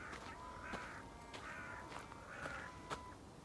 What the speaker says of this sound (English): Crows are making a bit of a noise this morning.